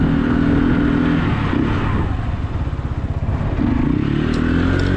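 A drift-capable car's engine roars under full throttle, a loud rising and falling rev with a rough, pulsing low note dipping midway before climbing again, heard close with no talk.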